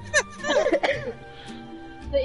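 A short cough and throat-clearing burst from a person, close and fairly quiet, followed by a brief pause and faint shuffling.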